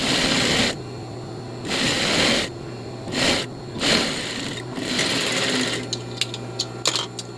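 A sewing machine stitches a 1 cm seam down a lined A-line skirt below the zipper, running loud in several bursts of a few seconds each, then stopping and starting in short spurts with clicks and handling near the end.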